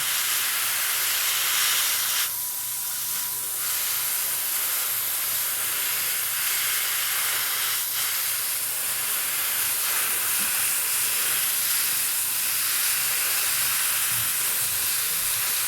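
A steady, loud hiss from an aerosol spray paint can spraying continuously onto model groundwork, with brief changes in intensity and no voices.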